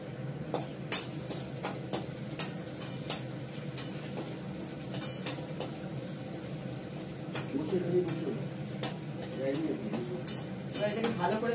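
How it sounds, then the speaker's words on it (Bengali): Cumin seeds, turmeric and Kashmiri chili powder sizzling in hot oil on a lowered gas flame, with a continuous fry hiss, repeated spatula taps and stirring scrapes; a person talks over the cooking. "জিরে ফোড়ন দিচ্ছি, দেবো হলুদ, কমানো আছে গ্যাসটা, দেবো কাশ্মীরি লঙ্কার গুঁড়ো,"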